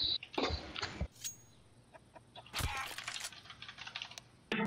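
Chickens cluck in the CS:GO video game, short clucking bursts mixed with game effects and keyboard clicks, fairly quiet overall.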